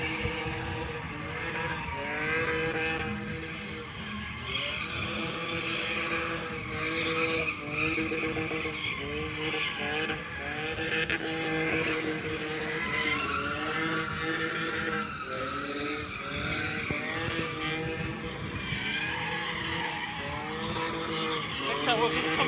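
A Nissan Laurel with an RB20 engine drifts at a Holy Shift Fest drift event, its tires squealing and skidding continuously alongside engine roar, loud and sustained, with the crowd and other cars mixed in.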